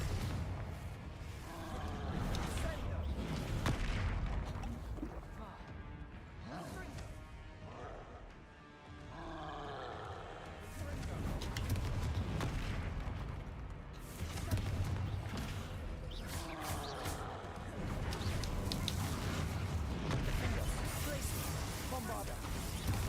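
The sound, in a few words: Confringo blasting spell explosion from a Harry Potter video game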